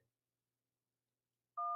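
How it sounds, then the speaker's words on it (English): Two-tone telephone signal sounds briefly and loudly near the end of an otherwise silent stretch, marking an incoming call on a live call-in show. "Hold on, we got another call calling in."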